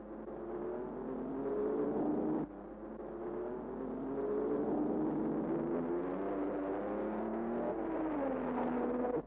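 Racing cars of the 1953 Le Mans 24 Hours circulate with a continuous droning engine note, pitch rising and falling as they pass, steady and moderately loud with no talk.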